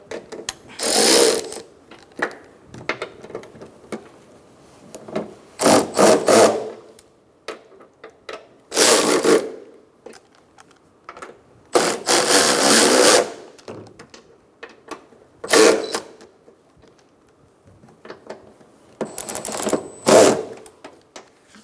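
Strut mount bolts on a 2004-2009 Mazda 3 being snugged up with a power tool, in about eight loud rattling bursts of one to two seconds each, separated by near-silence, close by.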